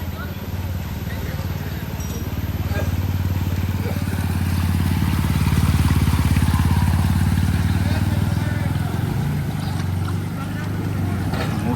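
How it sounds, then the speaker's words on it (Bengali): A motorbike approaching along a rain-soaked road near Bidhannagar station, Ulto Danga, its low engine drone building steadily, peaking midway and then easing slightly, with no speech over it. "ওই দেখেন কিভাবে বাইক নিয়ে আসছে, দেখেন।"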